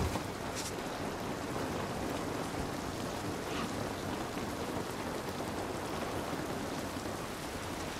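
Heavy downpour in the video game The Last of Us Part 1, a dense, even roar of rain hitting surfaces that holds steady throughout, close and enveloping with no voices.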